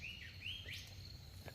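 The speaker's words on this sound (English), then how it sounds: "Just listen to those birds." Birds sing in a forest along a trail near Noosa, a few clear rising whistled chirps close by over a soft background hum.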